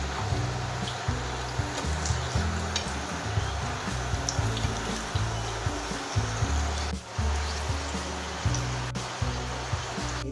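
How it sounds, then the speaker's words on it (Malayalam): Egg parotta shallow frying in a pan, a steady close sizzle and crackle of hot oil running continuously, with faint clatter now and then. "നമുക്കൊരു സെക്കൻഡ് ബാച്ചും ഷെല്ലോ ഫ്രൈ ചെയ്തെടുക്കാം"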